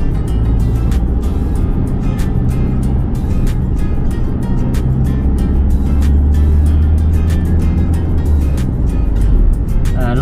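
Dense traffic jam on a Bangkok road near Ratchadaphisek, with a steady rumble of idling and creeping car and bus engines, constant and fairly close, with brief sharp ticks and a voice faintly present underneath.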